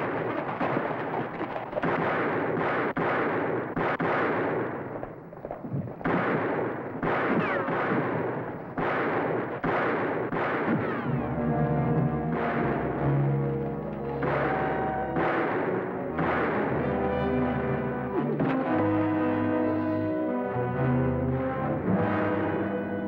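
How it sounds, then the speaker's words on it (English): A Western-style gunfight, with rapid gunshots cracking and booming in an irregular barrage throughout, loud and dense, mixed with music. "Which way you shooting, Jason?"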